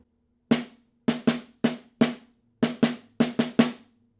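Snare drum played with right-hand-lead sticking through the opening measure of a regional snare etude: ten crisp, close strokes in an uneven, syncopated rhythm, each with a short ringing buzz, played alone.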